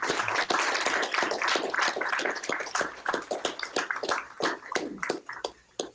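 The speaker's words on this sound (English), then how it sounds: "How about a round of applause?" Audience applause after a presentation at a software defined radio meetup, a fairly faint spread of clapping from a modest crowd that thins toward the end.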